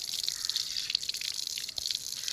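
Water splashes and trickles steadily as feet are washed at a village home during the Ugadi festival, a continuous close hiss of running and dripping water with no voices.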